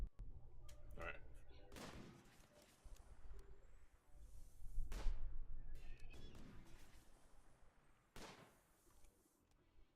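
Mortar fire in the Rimworld video game: several heavy booming shots land a second or two apart over a rumbling battle background, with some sharper bursts mixed in.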